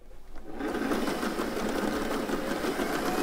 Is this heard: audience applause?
no